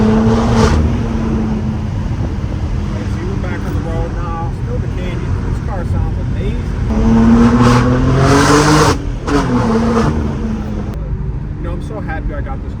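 A straight-piped BMW M4 G82 with a manual gearbox and downpipe roars loudly and close, its exhaust revving and swelling in sustained pulls with crackles toward the end, with a voice speaking underneath.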